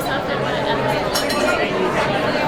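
Glasses clink together in a toast over a busy restaurant crowd at a Christmas dinner in a rustic lodge café, the light chimes brief and partly buried under steady chatter and dish clatter.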